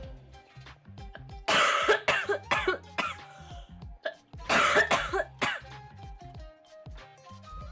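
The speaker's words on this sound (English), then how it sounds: "I can hear my coughing" Two bursts of harsh, hacking coughs, each a cluster of several rough coughs, heard over faint background music.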